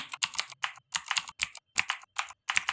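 Typing on a computer keyboard, quick clusters of crisp, close key clicks in an uneven rhythm with short pauses between bursts, no voices.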